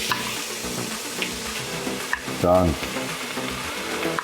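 Sofrito frying in butter and a few tablespoons of olive oil, stirred with a wooden spoon: a continuous close sizzle with scraping strokes, and a brief spoken word partway through.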